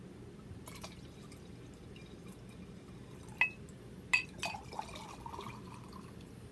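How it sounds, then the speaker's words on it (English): Wine runs from a nearly empty bottle into a glass in a quiet room, with a few sharp glassy clinks and short trickling glugs near the end, faint and close. "there's the big pour. That's the end of the bottle right there."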